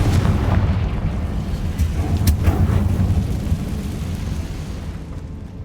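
A Confringo fire spell from Hogwarts Legacy bursts in a heavy rumbling explosion that rolls on and slowly fades, loud and close.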